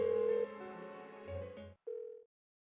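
A telephone ringing unanswered in the video game Persona 4 Golden, a steady electronic ring tone repeating in short bursts with pauses, fairly quiet and with no voices.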